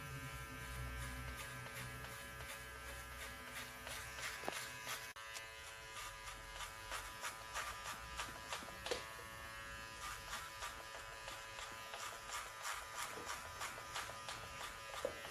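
An electric hair clipper with a 6 mm guard buzzes steadily while cutting a mid fade, quiet and close, its motor hum overlaid with fast, rhythmic bursts as it passes through hair again and again.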